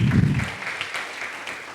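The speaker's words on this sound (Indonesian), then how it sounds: "berikan tepuk tangan yang paling meriah buat Tuhan kita." A church congregation applauds during a worship service, a steady wash of hand claps lasting under two seconds, with a brief low murmur at the start.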